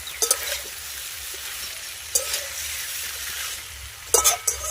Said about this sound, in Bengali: এবার একটু নেড়ে নেব সবজিগুলো যাতে মশলার সঙ্গে ভালো করে মিশে যায়